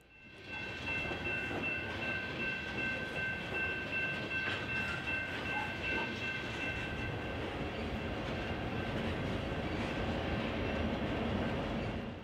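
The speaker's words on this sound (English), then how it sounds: "This train is headed for the Robert Schurer Power Plant beyond Memphis near Macon," A BNSF freight train rolls steadily past on the Thayer North Subdivision, a continuous loud rumble of wheels on rails with sustained tonal ringing from the cars, no voices.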